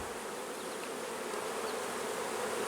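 Honeybees buzz over an open brood frame with larvae being capped, a steady close hum filling the whole stretch with no talk.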